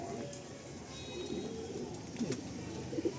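A Madrasi pigeon coos softly amid a busy loft background, low burbling phrases recurring through the stretch with a few brighter accents near the end.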